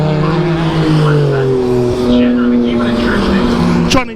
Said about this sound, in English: You got Summers on a flying lap